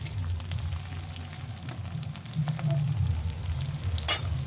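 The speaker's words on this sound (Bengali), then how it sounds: "আর একটু তেলের পরিমাণটা বেশি দিয়ে দিচ্ছি, কারণ সবজিটাও ভেজে দেবো একেবারে" Vegetables fry in a generous amount of oil in a pan before pasta is added, giving a steady close crackle with a few sharper stirring clicks and no talk.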